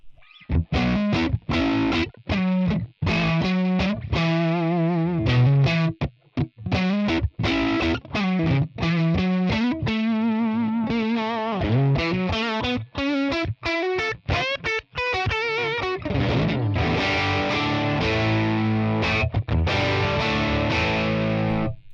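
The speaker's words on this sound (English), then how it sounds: "I really fell in love with the G40 because it's such a warm, organic tone" An electric guitar played through a Tonex One capture of a G40 amp, dry with no reverb: a warm, distorted tone in continuous strummed chords and riffs, close and loud, with no talking.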